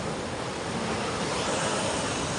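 Sea waves heard as a continuous, loud broadband wash of surf with some wind rumble, steady throughout without distinct breaks, and no talking.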